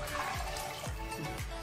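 Water poured into a pot of village-style Chettinad fish curry, a steady close splashing flow with a few gulping dips, heard alone without talk.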